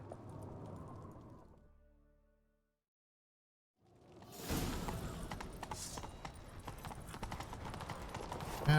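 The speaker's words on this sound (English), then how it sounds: "Grab a horse, we'll chase him down." Horse hooves clip-clopping at a run in The Witcher 3, beginning after a brief silent gap and then pounding steadily and loudly under busy game ambience.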